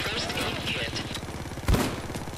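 Shotgun blasts in the video game Payday 2 during a loud bank heist, a sharp heavy shot standing out over busy game noise and a voice.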